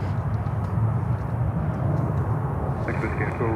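An Avianca cargo airplane at an airport gives off a steady, dense engine rumble that holds evenly throughout with a constant wash of ambient noise.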